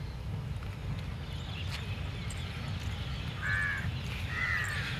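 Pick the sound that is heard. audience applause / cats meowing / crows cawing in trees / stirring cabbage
crows cawing in trees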